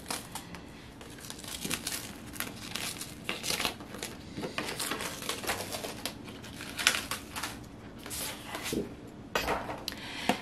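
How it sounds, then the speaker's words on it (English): Printed glossy vinyl stickers cut on a Cricut machine are peeled off the cutting mat, giving quiet, close, irregular crinkling and tearing crackles throughout. "Okay, so my stickers have been cut, and I'm going to peel them off of my mat."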